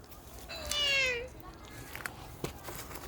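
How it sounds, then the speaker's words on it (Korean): A cat gives one drawn-out meow nearby, followed by scattered light knocks and rustling outdoors. "어, 고양이다."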